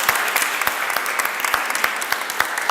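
Steady applause from an audience at a lecture on Sudan's archaeological heritage, many hands clapping continuously with scattered sharper claps standing out, fairly loud and close.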